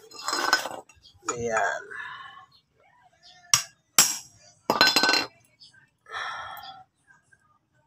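Sharp metallic hammer strikes fall on a valve spring compressor set on a Honda TMX motorcycle engine head, two loud close clanks among softer clinks, as people speak quietly.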